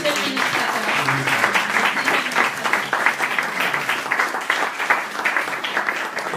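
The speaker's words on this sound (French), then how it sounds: "donc on peut applaudir Anne" Applause at an association's general assembly meeting in Lyon, steady clapping from the attendees for a presenter, sustained throughout with murmured voices underneath.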